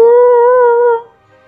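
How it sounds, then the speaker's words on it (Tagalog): A long, eerie howl rises outside in the night, a single sustained wavering cry held loud and close for about a second before cutting off into near silence. "isang nakakapanindig balahibong alulong ang muling pumainlanlang sa hangin"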